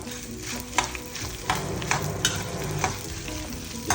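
Dried red chillies and asafoetida frying in hot oil for an Andhra lentil stew, a dense crackling sizzle throughout with sharp spatters and stirring clicks, close and steady, no voices.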